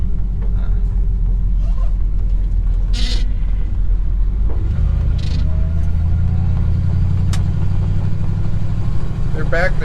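A Ford F350 truck, left unfinished for 20 years and riding stiff, drives around a loop with a steady low engine rumble and road noise throughout; faint voices may sit under it.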